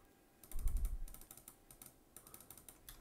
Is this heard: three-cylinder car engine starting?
no